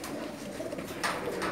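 Pigeons in Jeddah, Saudi Arabia, coo in a brief, soft, throaty burble close by, with a low murmur of background noise.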